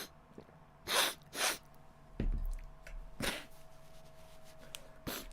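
Two short sneezes or sniffles from a man with a cold-like stuffiness, followed by a few more nasal snorts and breaths, fairly close and alone with no talking.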